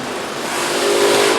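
Transport car moving through the Lovol combine harvester factory, its engine droning and building slightly in loudness, close and steady over broadband workshop noise, with no talk.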